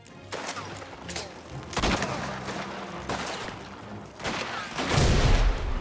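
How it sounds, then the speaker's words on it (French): Grenade blast and bursts of gunfire in the Mafia video game, several loud broadband bangs spaced a second or so apart, ending in a heavy low boom, with voices talking in between. "J'envoie une grenade."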